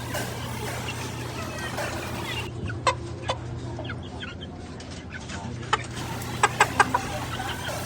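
Shamo gamecock clucking in short, separate bursts scattered across the clip over a steady low hum, fairly close, with brief bright calls clustering near the end.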